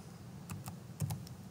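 A few quiet key presses on a computer keyboard, ending with a firmer tap on the enter key, heard faint and brief with no talking.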